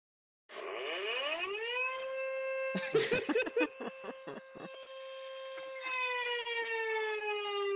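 A wailing fire truck siren in a video game sweeps up and holds steady and loud, broken midway by a burst of choppy sounds before resuming its long, sustained tone.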